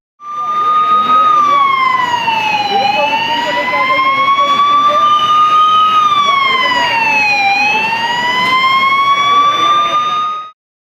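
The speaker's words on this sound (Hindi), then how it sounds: "तत्काल ही तेज सायरन बज उठा" A loud wailing siren rises and falls in slow sweeps during a mock emergency drill at a shopping mall staged with a fire on an upper floor, sounding continuously and close for about ten seconds with no talk over it.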